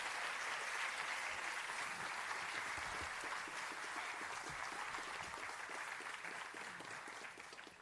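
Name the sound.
audience applause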